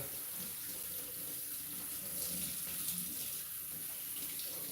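Hot water running from a kitchen tap while buttery hands are rinsed under it, a steady faint hiss and splash that continues unbroken throughout, with no talk.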